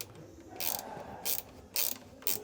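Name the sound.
ratchet tightening bolts on Land Rover Defender cage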